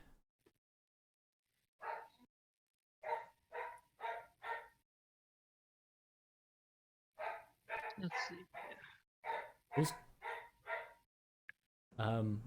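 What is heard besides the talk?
dog barking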